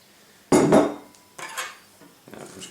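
A utensil scrapes and clinks against a dish while seasoning and black pepper are mixed with extra virgin olive oil, in three separate bursts, the first loudest, with quiet pauses between them.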